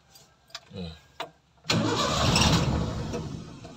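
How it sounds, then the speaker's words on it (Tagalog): Toyota 4K engine in an owner-type jeep with an idle issue; a few soft clicks and a voice come first, then the engine catches and runs loud and steady at close range. "Start the engine."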